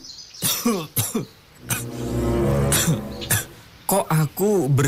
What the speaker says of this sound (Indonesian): Kok aku bersin batuk gini ya?